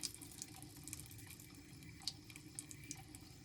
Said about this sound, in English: maybe add a little more water, rinse it off until it rinses clear